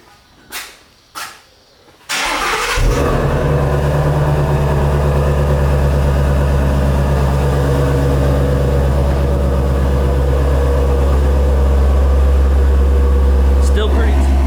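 Ford Mustang GT350 exhaust with the mid-pipe and resonators removed. A few sharp blips open it, then the engine settles into a loud, deep, steady rumble at close range that holds to the end.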